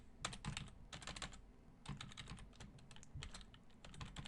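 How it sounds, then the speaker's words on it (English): Close, quiet computer keyboard typing comes in quick bursts of clicking keystrokes with short pauses between them while code is entered into Eclipse. "So let's type that into Eclipse here."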